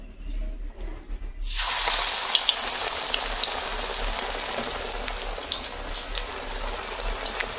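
Shrimp spring rolls wrapped in bottle gourd and pumpkin leaves drop into hot oil, bursting into a loud, steady crackling sizzle after a quiet opening that continues to the end.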